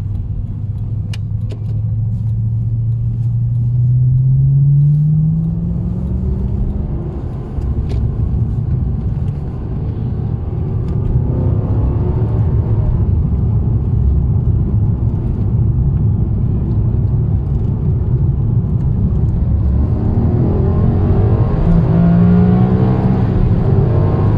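A Maserati GranSport on the move gives a loud, steady engine rumble from inside the cabin, rising in pitch once or twice as it accelerates through the gears, with no voices.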